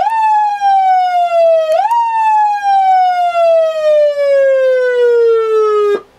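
A Federal Signal PA300 siren in manual tone wails loud and close, its pitch coasting steadily down over several seconds with a brief upward chirp midway, then cutting off abruptly at the end.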